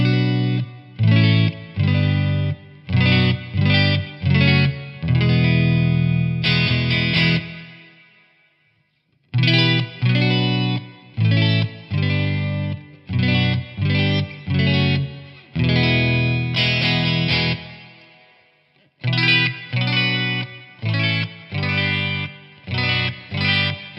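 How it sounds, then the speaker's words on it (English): Fender Stratocaster played clean through a Bad Cat Black Cat amp and a Celestion G12H Redback 12-inch 150-watt speaker: ringing chords in short rhythmic bursts, repeated in three phrases separated by brief silences, with no voices. "starting with the clean tones and the Stratocaster, first up is the Bad Cat Black Cat."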